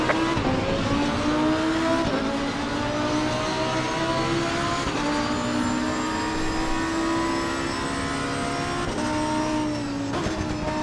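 Race cars roar off the start in the Assetto Corsa Competizione racing game at Paul Ricard, a dense, loud pack of engines revving and climbing in pitch together, continuous throughout with no talking.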